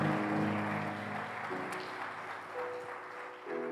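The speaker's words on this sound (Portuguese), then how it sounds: "Você pode aplaudir a Jesus por aquilo que Ele vai fazer" A church congregation applauding during a celebration service, a soft continuous wash of clapping set back in the room, with sustained musical or vocal tones underneath.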